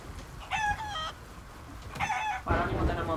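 Caged chickens aboard a ship in Sea of Thieves, two distinct clucking and crowing calls about a second apart, close and clear, followed by a burst of busier squawking over a low background.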